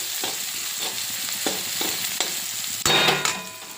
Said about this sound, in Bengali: সব সবজিগুলো ভাজা ভাজা হয়ে গেছে।